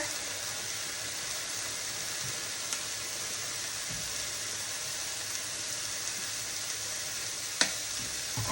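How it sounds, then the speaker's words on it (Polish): Teriyaki chicken cooks in a pan on a burner, giving a steady, even sizzle and hiss throughout with a couple of faint clinks and taps, and no voices. "Tutaj nam się już gotuje."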